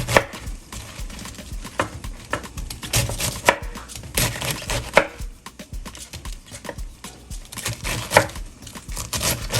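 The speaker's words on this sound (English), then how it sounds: "We're going to cut the other half of the cabbage on up." A knife chops cabbage on a cutting board with quick, close, steady strokes that thud and clatter unevenly. No one speaks.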